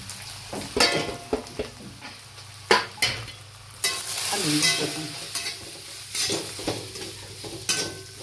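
Spice masala sizzles and fries in a hot pan while a spoon stirs and scrapes it in irregular bursts, close up and without talk.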